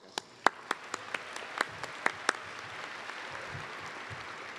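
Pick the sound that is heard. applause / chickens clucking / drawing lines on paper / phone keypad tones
applause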